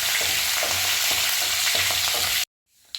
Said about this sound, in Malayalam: 2-3 വറ്റൽമുളക്, 2 തണ്ട് കറിവേപ്പില എന്നിവയൊക്കെ ചേർത്തതിന് ശേഷം നന്നായി ഇളക്കാവുന്നതാണ്